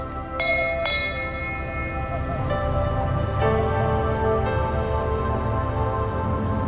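A boat's signalling bell used between wheelhouse and deck crew on a canal rings twice in quick succession, then a few softer strikes ring out and decay over a low engine hum.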